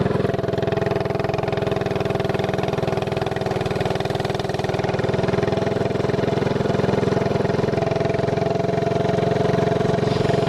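A mini-bike engine with no throttle cable runs steadily, its throttle body worked by hand, producing a loud, constant droning hum close by with slight fluctuations in pitch and no talking.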